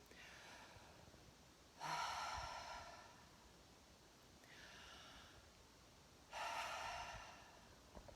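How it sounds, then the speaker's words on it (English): Slow, deliberate deep breathing, heard as two long, loud airy breaths a few seconds apart with a softer breath between them, close to the listener and with no voices. "just 5 minutes of deep breathing"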